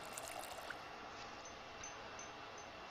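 A cooking pot being filled with water in Project Zomboid: a faint, continuous running-water hiss that keeps going steadily for a few seconds, soft and alone.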